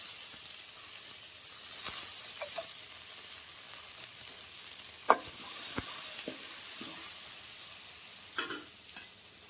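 Onions and curry leaves fry in hot oil in a pan, a steady close sizzle running throughout with occasional scrapes and clinks of a stirring spoon.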